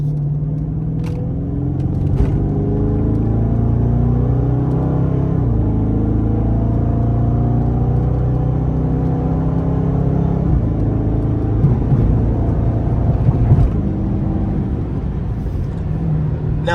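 A Scat Pack car drives rough night streets in Mexico, heard from inside as a loud, continuous low engine rumble that swells and eases with throttle, with occasional bumps and rattles.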